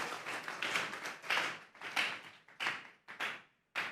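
A church congregation claps hands together in bursts of applause, fairly close and lively, with uneven rhythm rising and falling and brief pauses between rounds.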